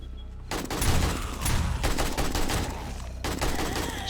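Rapid gunfire from a gun in the video game 7 Days to Die: loud, sustained bursts of shots that start abruptly and keep hammering without a break, with no one talking.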